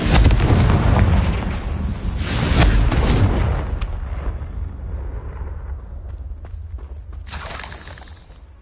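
Confringo spell explosions in the video game Hogwarts Legacy, several heavy booming blasts with shattering debris, loudest in the first three seconds and then a rumbling tail with further impacts near the end.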